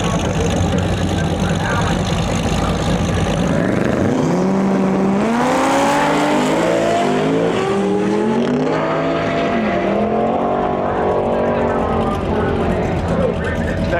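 A Grand Sport car roars down a drag strip, its engine note rising and falling through the gears as it passes, with a loud track announcer talking over the whole run.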